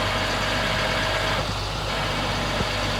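A winch on a 2000 GMC C6500 flatbed tow truck runs with a steady mechanical drone and low moaning over the idling engine, a constant, fairly loud hum.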